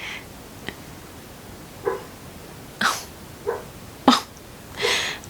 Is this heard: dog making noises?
yes